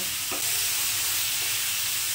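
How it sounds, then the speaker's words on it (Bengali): Greens frying with bitter gourd in an oiled pan over raised heat give a continuous hissing sizzle, close and steady, with a couple of brief scrape-like stirring clicks and no talking. "আঁচটাকে বাড়িয়ে আমি শাকটাকে নিয়ে উচ্ছে সমেত ভাজা ভাজা করতে থাকবো"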